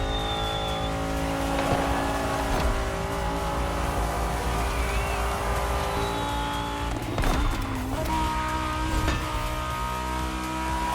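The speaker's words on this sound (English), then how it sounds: "High revving engine." High-revving car engine racing through downtown in the video game The Crew Motorfest, a sustained loud whine with shifting pitch, tire squeal and brief skids cutting through.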